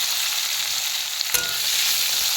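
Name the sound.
potatoes frying in oil with cumin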